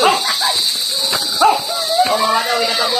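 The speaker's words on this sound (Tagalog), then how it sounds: "Grabe magalit tong aso natin." A dog barks angrily outdoors near a wooded path, short harsh barks and yips breaking through over a steady hiss, with people talking over and around the barking.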